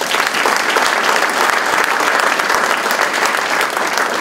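Audience applause fills an award ceremony hall, a steady, dense wash of many hands clapping throughout without a break.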